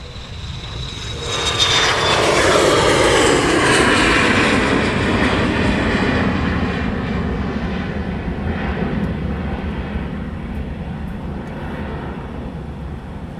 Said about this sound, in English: We have Bizjet now on the roll.